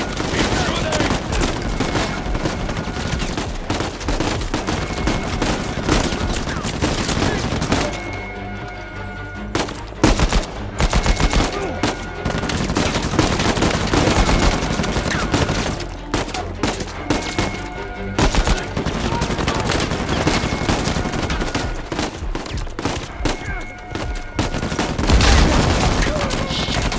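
Dense gunfire in an Uncharted 4 firefight, sustained rapid shooting and bursts with crashes, loud and nearly continuous, with shouted voices mixed in.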